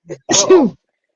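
A single close, loud human sneeze, a short sharp intake followed by a burst, alone in the silence.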